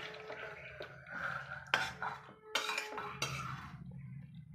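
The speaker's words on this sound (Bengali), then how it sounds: "এবার আমি এটা একটা পাত্রে ঢেলে নিই" Prawn curry being poured from a pan into a serving bowl, with a few sharp metal clanks and scrapes of the pan against the bowl amid soft liquid drips, close and fairly quiet.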